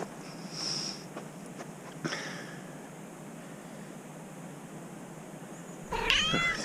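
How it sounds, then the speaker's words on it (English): A cat meows a few times close by against a quiet background, ending in a longer, drawn-out cry. "That's a meow. That's a cat."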